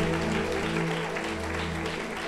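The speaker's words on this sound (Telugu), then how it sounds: "గట్టిగా చప్పట్లు కొడదామా" A church congregation claps together in a steady patter of many hands, with a sustained humming tone beneath the clapping.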